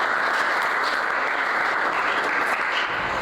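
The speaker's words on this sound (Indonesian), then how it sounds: "Tepuk tangan untuk semuanya." Students in a classroom give a round of applause after singing together, a dense, continuous patter of many hands clapping close by, with no talking over it.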